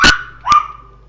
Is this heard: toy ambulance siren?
no